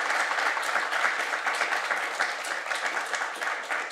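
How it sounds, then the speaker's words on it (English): Conference audience applauding panelists at the Geneva Summit on Africa: steady, dense hall applause that holds throughout without speech. "Please, a round of applause for our great panelists."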